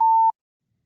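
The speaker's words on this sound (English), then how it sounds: "let me get my beep ready" A single censor beep sound effect: a steady pure tone lasting about a third of a second, loud and alone, then silence.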